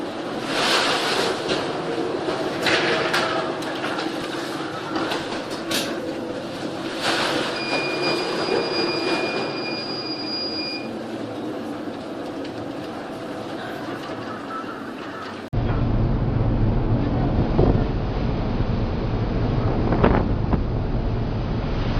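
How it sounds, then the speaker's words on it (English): The expedition ship MS Expedition in a Force 12 storm between the Antarctic Peninsula and South America, with loud roaring wind buffeting the microphone and crashing waves, a dense continuous rumble that surges stronger toward the end. "On board the ship MS Expedition, Force 12 on the Beaufort scale, from the Antarctic Peninsula to South America."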